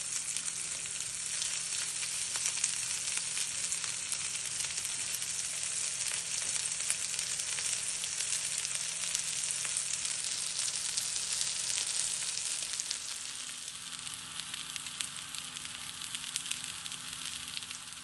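Chickpea kabab tikki shallow frying in oil, a continuous even sizzle with fine crackling that holds steady throughout and eases slightly toward the end, with no voices.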